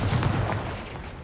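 A Confringo fire blast spell going off in the video game Hogwarts Legacy: a single loud, close burst with a booming low impact that quickly trails off.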